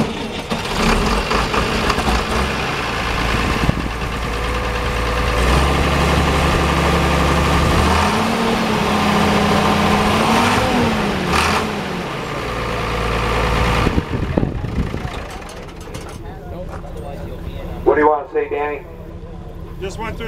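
A heavy diesel engine on a restored International Harvester tractor rumbles into life at an auction and settles into a steady, loud idle, with people talking over it near the end.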